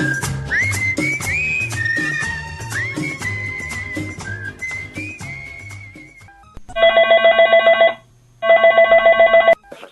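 Music plays, then stops, and a telephone rings for a call-in on an All India Radio film-song phone-in show, two loud, even trilling rings with a short gap between them.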